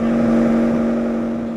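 Skoda Fabia S2000 rally car engine holding a loud, steady high drone up close, tapering slightly toward the end.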